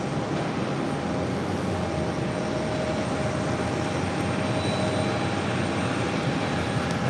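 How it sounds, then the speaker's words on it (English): Brussels Airlines Airbus A330-300 jet arriving on runway 4 right, a steady broadband engine roar with a faint thin whine, holding even and continuous throughout with no voices. "Max arrival on 4 right to Brussels Airlines. Flight 501 coming in from Brussels,"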